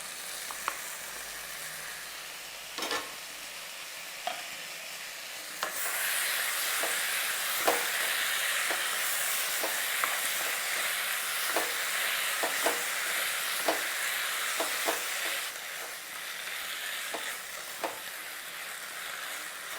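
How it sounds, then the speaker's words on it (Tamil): Prawns frying in a pan for prawn masala, a steady loud sizzle that jumps up sharply after the first few seconds, with scattered clicks and scrapes of stirring throughout and no talking. "இந்த அளவுக்கு வெந்தோடனே இப்போ ப்ரான்ஸை போட்டுக்கலாம்."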